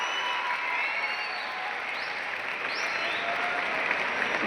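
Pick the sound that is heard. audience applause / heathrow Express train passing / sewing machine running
audience applause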